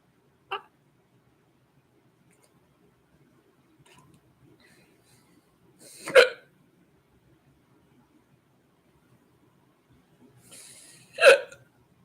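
Hiccups from a man watching a football match, three sharp isolated jerks spaced several seconds apart against near silence, the last two louder and fuller than the first.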